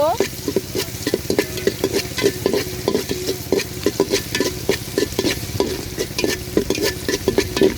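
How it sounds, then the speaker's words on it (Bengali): Chopped onions frying in a pan, a loud, close, continuous sizzle broken by rapid rhythmic scraping and clinking of a spatula stirring against the metal. "কুচি পেঁয়াজটা খুব ভালোভাবে ভেজে নিব"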